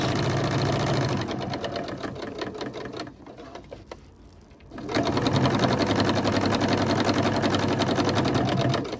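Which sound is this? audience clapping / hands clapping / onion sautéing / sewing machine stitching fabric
sewing machine stitching fabric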